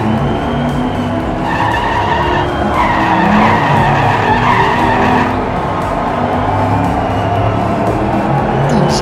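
Diecast toy race cars rush down a track with a continuous loud rolling roar and rising whine of small wheels, close and sustained throughout.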